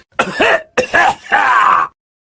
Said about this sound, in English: The old man coughed.